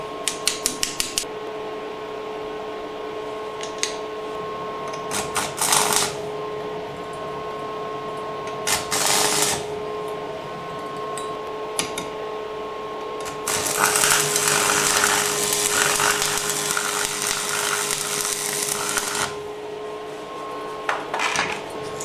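A Parkside welder from Lidl striking and holding an arc on stainless steel, with crackling hissing bursts of varying length separated by a steady mechanical hum, loud and close.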